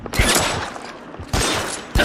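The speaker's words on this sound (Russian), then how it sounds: "О, этот автомат Томпсона." Thompson submachine gun fire in L.A. Noire, two loud, crackling bursts separated by about a second, the second short and abrupt.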